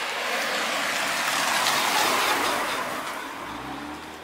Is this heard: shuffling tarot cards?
no